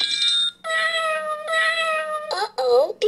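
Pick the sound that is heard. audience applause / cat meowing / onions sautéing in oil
cat meowing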